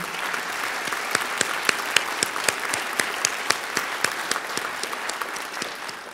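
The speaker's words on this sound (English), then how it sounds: "you can thank them by giving them a nice round of applause at this time" A school auditorium audience at an honors society ceremony gives the chamber orchestra a round of applause, steady crowd clapping with a few sharp, close individual claps standing out rhythmically above the wash.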